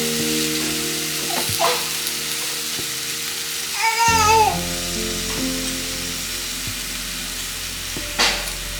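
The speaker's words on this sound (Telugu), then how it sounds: "ఇదే కడాయిలో మరికొద్దిగా ఆయిల్ పోసుకొని ఈ టమాటాలను మెత్తగా ఉడికించుకుందాం" Thinly sliced tomatoes cook in oil in a kadai, a moderate sizzle with occasional utensil knocks, a short high wavering squeal midway and a steady low hum underneath.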